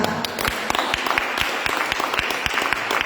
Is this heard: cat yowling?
no